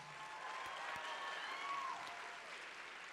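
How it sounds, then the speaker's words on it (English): Steady applause from a crowd at a fast pitch softball event fills the space, sustained and even throughout, somewhat distant and moderately loud. "Let's give them another round of applause."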